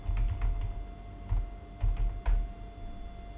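Keys clatter on a computer keyboard in short irregular bursts, a handful of close, distinct clicks with brief pauses between them and no voices.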